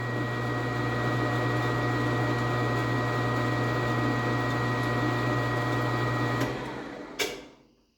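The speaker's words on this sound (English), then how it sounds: "Our next pass, I'm going to just take a spring pass to clean everything up." Metal lathe running a light finishing spring pass while cutting metric threads, a steady machine hum with a constant tone and fine cutting noise that fades out near the end after a brief click.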